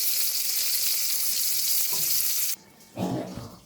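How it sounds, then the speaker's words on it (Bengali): Cauliflower frying in a pan gives a loud, steady broadband sizzle that cuts off sharply partway through, followed by a short burst of softer clattering kitchen noise. "তো বাকি ছিল শুধু আমার মেয়ের ফুলকপি ভাজা।"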